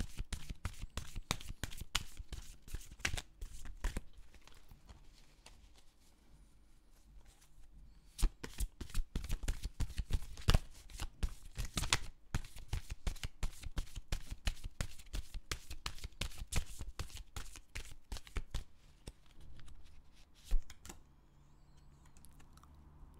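A deck of tarot cards shuffled by hand, a long run of dense, rapid riffling flutters and taps, close and fairly loud, with short pauses between bursts.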